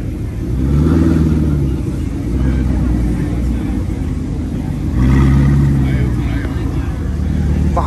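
A first-generation Audi R8 with a manual gearbox and aftermarket exhaust rumbles low and loud, swelling twice as it moves at an early morning cars and coffee meet, with people talking over it.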